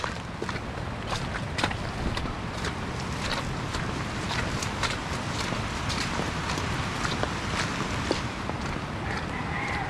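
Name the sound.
river water rushing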